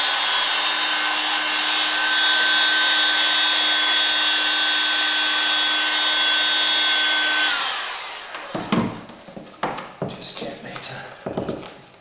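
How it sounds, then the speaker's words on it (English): A heat tool blowing hot air onto a part during a classic car restoration, a steady whining blower that shuts off partway, leaving scattered handling noises and rustling afterward. "I'll just apply a little bit of heat to this"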